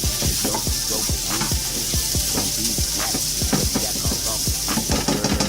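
Morning Star Farms chik'n strips fry in a pan with a loud, steady close sizzle, punctuated by rapid repeated scraping stirs as the strips are kept moving, no talk over it.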